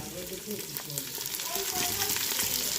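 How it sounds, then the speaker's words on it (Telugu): Onion, beetroot and carrot frying in a pan. A continuous close sizzle runs throughout, with soft clinks and shifting tones from the pan over it. "తర్వాత వచ్చేసి ఎర్రగడ్డ వేసుకుందాం తర్వాత బీట్రూట్ తర్వాత క్యారెట్"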